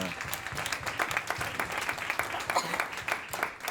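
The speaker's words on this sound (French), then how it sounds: "On reçoit Maëlle avec des applaudissements, bien sûr." Studio audience applauding a guest at a French talk show, dense steady clapping from a crowd throughout, fairly close with no speech over it.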